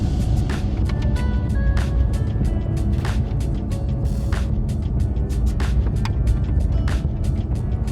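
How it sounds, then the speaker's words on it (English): A Porsche Cayman 987 Gen 2 with a PDK gearbox is heard from inside while driving, a steady low engine and road drone with occasional sharp clicks and knocks from the cabin. "today I'm presenting a Porsche Cayman 987 Gen 2 with the PDK gearbox. Let's jump straight in and see how she drives"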